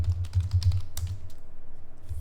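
Rapid close keystrokes on a computer keyboard, a quick burst of clacks followed by a single sharper Enter-key press and a few softer taps afterward.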